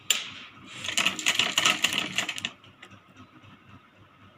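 A sewing machine stitches a folded fabric strip for a Rajputi kanchali blouse. It runs in a fast, steady mechanical clatter for about two and a half seconds, then stops and leaves a few faint clicks.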